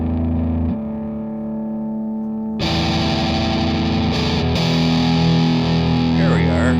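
Ibanez S670 QM electric guitar played through a distortion pedal, a sustained chord that swells into a loud, saturated, buzzy wall of sound, played alone up close.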